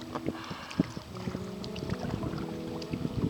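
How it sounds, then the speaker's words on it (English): Paddling a kayak through gentle Class 1 river rapids, with rushing, splashing water and occasional knocks of the paddle or hull, close and moderately loud, with no talking. "Our little Class 1 rapids."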